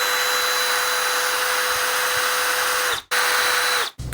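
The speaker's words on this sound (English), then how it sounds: "Just gonna try to drill straight down the center here." Electric drill boring into a wooden microphone stand with a dull 1/4 inch bit, a loud steady high whine that runs continuously, then cuts out abruptly twice near the end as the trigger is released and pressed again.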